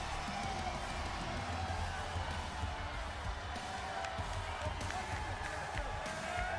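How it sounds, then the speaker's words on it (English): A wrestling arena crowd roars continuously for LA Knight's entrance on WWE SmackDown. The noise is broad and sustained, with an entrance theme and a commentator's voice woven through it. "And the crowd just goes crazy"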